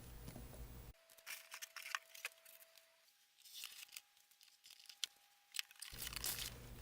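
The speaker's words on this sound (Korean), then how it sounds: "다음 박스를 열어보겠습니다." An Amazon Japan cardboard package is opened up close, with a series of irregular crinkling, tearing and rustling sounds of cardboard and packing material, quiet between bursts and with no talking.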